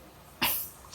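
A single short, sharp cough from a person recovering from COVID-19 bursts out near the mic, then fades quickly into quiet background.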